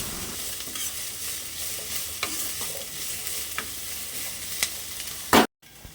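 Carrots and curry leaves stir-fried in a pan for gobi fried rice give a steady close sizzle with occasional spatula scrapes and clinks, ending in one loud knock before a sudden cut.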